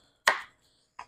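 An onion being chopped on a board gives two separate sharp knife strikes, the first louder with a short ringing tail and the second quicker and lighter, with quiet between them.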